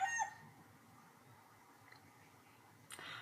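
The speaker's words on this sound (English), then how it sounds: "those fucking chickens" Chickens cluck and a rooster crows briefly at the start, then quiet background hiss with another short squawk near the end.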